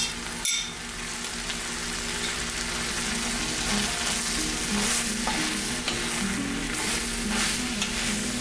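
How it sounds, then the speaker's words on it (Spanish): Chorizo and sliced sausage sizzle steadily in a Ninja Foodi pot, with close, continuous frying crackle and occasional scraping stirs throughout, no voices. "Agregamos también la cebolla y el chile serrano. Lo dejaremos freír por unos 5 minutos."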